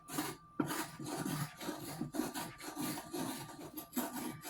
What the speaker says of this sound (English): I'm scraping that little bit of brown sugar off the bottom here and just mixing it in.